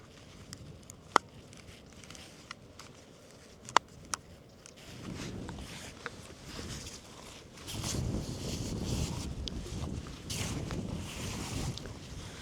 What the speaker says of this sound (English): Definitely quite breezy.